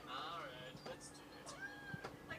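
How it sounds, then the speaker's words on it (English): A hungry mother cat meows close by, with one drawn-out wavering meow followed by a shorter call, fairly quiet, among light rustling sounds. "Hey, Mama Cat. You hungry?"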